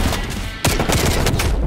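Dense, loud rapid gunfire in Black Ops Cold War, a continuous barrage of shots with a sharp burst starting partway through.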